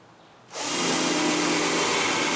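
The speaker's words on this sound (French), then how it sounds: "je perce des trous pour des goujons qui vont empêcher les 2 parties de bouger" Power drill boring dowel holes into wooden furniture parts for a chest of drawers: after a short quiet moment it starts abruptly into a loud, steady, broadband whir that stays constant and close.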